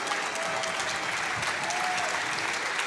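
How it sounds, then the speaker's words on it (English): Steady round of applause from a live esports event audience at a Rainbow Six Pro League finals reveal, dense, continuous and fairly distant, with a faint tonal whine running under it. "Give them a round of applause for showcasing the new content"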